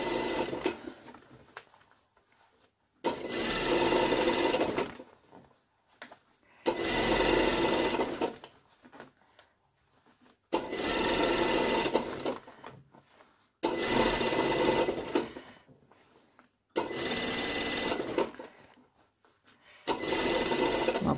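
A sewing machine topstitches a lined jacket in six bursts of rapid stitching, each lasting two to three seconds, with short quiet pauses between them. The machine sounds loud and close.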